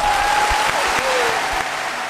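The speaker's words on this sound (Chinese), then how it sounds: "掌声有请啊！" Studio audience on a Northeast Chinese TV dating show claps warmly for a contestant, a steady, dense wash of applause lasting about two seconds with a faint tone running underneath.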